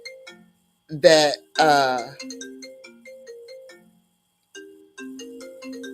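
A mobile phone ringtone plays a short melodic tune of repeated tones close by, interrupted by a couple of loud spoken words before the tune continues.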